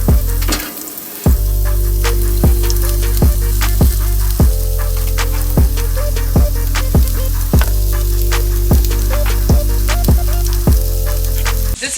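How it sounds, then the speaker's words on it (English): Vegetables hit a hot pan of olive oil and then fry with a loud, constant sizzle, while regular ticking pops repeat about every second throughout. "We're going to swirl a little bit of olive oil, and then we are going to be ready to drop in our veggies."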